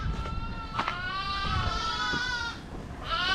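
Sheep and lambs bleat on a muddy farm during lambing season, several overlapping wavering calls close by, with soft background noise between them.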